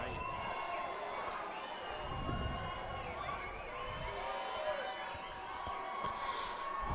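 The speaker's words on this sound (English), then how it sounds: "Western team and fans fired up after that." Western Mustangs fans cheer and shout in a hockey arena after a goal, a broad crowd roar with scattered yells and whistles rising and falling, heard under an announcer's talk.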